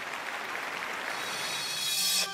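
Applause in a concert hall at a New Year jubilee show, a soft, even wash of distant clapping that carries through to the end, where a brief brighter tone cuts in.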